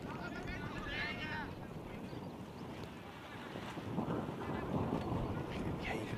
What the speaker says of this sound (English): around the ground that wind is starting to get up again